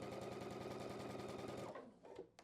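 A sewing machine stitches a quilt block in a steady, fast, close-up run of needle strokes that stops after about a second and a half, leaving a few quieter handling sounds.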